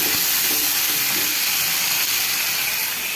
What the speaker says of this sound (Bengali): এই তো আমার মশলাটা ভাজা ভাজা হয়ে গেছে